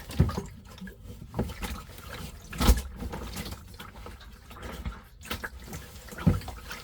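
Water trickling and gurgling as it drains from inside a caravan, with occasional soft knocks and splashes close by, no voices.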